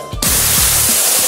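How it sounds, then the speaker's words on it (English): Airless sprayer applying plaster to a wall, with a loud steady hiss that starts abruptly and runs continuously at close range, held too near the surface with too much pressure. "So we're gonna spray our first coat."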